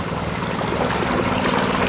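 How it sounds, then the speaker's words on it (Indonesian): Well water from a diesel pump gushes onto grapevine beds after harvest: a loud, steady rush and splash of water with a low engine hum beneath, continuous and close, with no talking. "Ini kita sentor pakai airnya, pakai air sumur memakai diesel."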